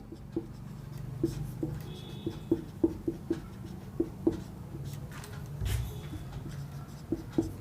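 Chalk or pen tapping and scratching on a board while solving a class 9 quadrilateral maths problem, a run of short, light strokes in an irregular rhythm over a quiet room hum.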